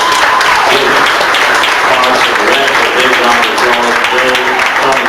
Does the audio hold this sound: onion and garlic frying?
no